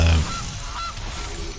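A synthesized goose honk plays in the Magic: The Gathering digital card game when a Gilded Goose card is cast, a single loud honk at the start that then fades into a soft electronic ambience.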